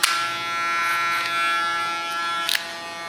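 Electric hair clipper buzzing steadily as only its tip trims the facial line and side hairline of a short pixie cut, a close continuous hum with brief sharper clicks where the blade catches hair.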